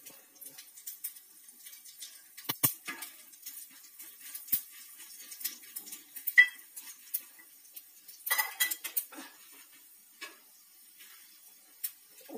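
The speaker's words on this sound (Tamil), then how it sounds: "இப்போ தாளிக்கிறது பார்க்கலாம் நான் 1 ஸ்பூன் எண்ணெய் ஊற்றி காய வச்சிருக்கேன் கடுகு உளுந்து சீரகம்" Quiet, scattered crackles and sharp little pops from mustard seeds, urad dal and cumin sizzling in a spoonful of hot oil, with faint clinks of a pan, no talking.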